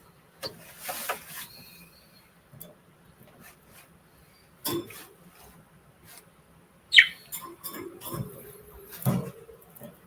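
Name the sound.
birds singing outside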